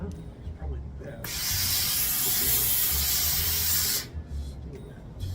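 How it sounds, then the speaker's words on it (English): A garment steamer puffs steam over the layers of a wedding dress, a broad steady hiss that starts abruptly, holds for about three seconds, then cuts off against a quiet room with faint low hum. "So we're just going to kind of give it a quick steam."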